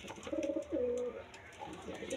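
A large pigeon gives two close, clear coos in quick succession, followed by quieter background sounds.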